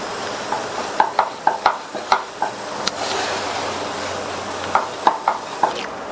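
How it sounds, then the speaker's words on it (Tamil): Rice flour dough with jaggery and roasted sesame stirred in a pan, a series of close, regular scraping knocks in two bursts around a quieter stretch of soft sizzle. "இந்த ஸ்டேஜ்ல வறுத்த எள்ளை சேர்த்துட்டு நல்லா மிக்ஸ் பண்ணி விட்டுருங்க."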